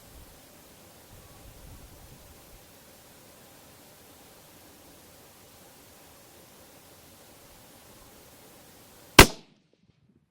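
A single .338 Lapua Magnum rifle shot fired at a target 1100 yards away: one sharp, loud crack near the end that decays quickly, after a long stretch of steady, faint background hiss.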